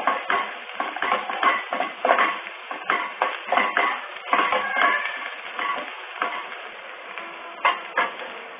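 Salt and turmeric are stirred into a tamarind-leaf curry in a pan, with repeated close scraping and clinking strokes of a utensil against metal that fade to lighter taps near the end.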